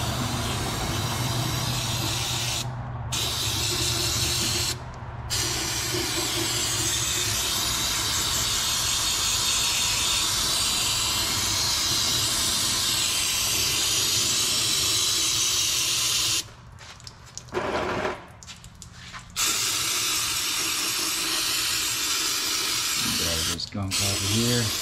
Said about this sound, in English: Come back in here with some brake clean.